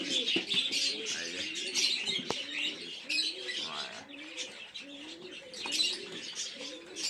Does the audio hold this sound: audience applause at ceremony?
no